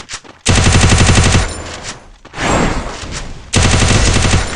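Loud rapid bursts of automatic gunfire in the video game Garena Free Fire: two long sustained volleys with a shorter, rougher burst between them, close and dominating with no talk over it.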